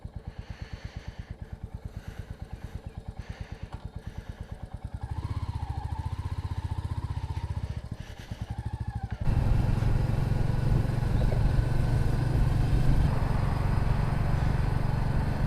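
A Royal Enfield Meteor 350 motorcycle, first a steady thumping single-cylinder idle with regular pulses, then revving and pulling away into a loud continuous riding drone with wind rush, close to the bike.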